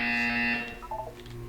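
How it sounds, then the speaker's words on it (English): A Portal 2 test-chamber buzzer sounds once, a sustained harmonic electronic tone lasting about half a second and then fading into quieter room tone, close and fairly loud with no voices. "When you hear the buzzer, look up at the ceiling."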